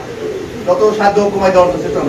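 Pigeons cooing up close in a few short, throaty rolling calls, loud and clear against a quiet background.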